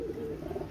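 A brief, low cooing murmur from a cream-eyed Sabdar Royal Teddy pigeon, heard close and steady against faint background noise.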